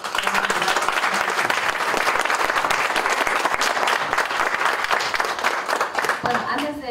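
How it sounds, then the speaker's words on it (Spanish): Audience at a talk on nuclear energy in medicine claps steadily and loudly for several seconds, a dense sustained round of applause with a voice speaking over it. "darles un cordial aplauso a todos ellos"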